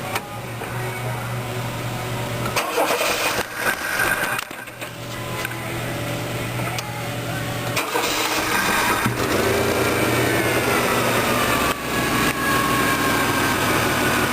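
A Chevrolet S10 pickup engine with a newly replaced CPI spider injector cranks and catches, then settles into a steady running idle, with a few brief bumps and pauses along the way.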